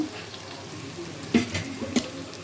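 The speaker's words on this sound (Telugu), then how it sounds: "వేగిన తర్వాత అల్లం వెల్లుల్లి పేస్ట్ వేస్తాను" Onions frying in a pan, a steady low sizzle with a couple of sharp scraping stirs near the middle and end, close and moderately loud with no voices.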